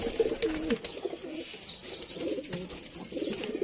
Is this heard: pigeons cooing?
yes